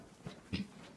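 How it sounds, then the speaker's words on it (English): A black dog gives a brief whimper in a dark indoor space, two short soft cries near 0.3 and 0.55 seconds over quiet room noise. "And now a black dog."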